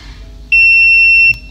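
A continuity tester gives one steady, loud, high electronic beep lasting almost a second while probing components on an MSI AMD HD 7970 graphics card, with faint clicks at its start and end.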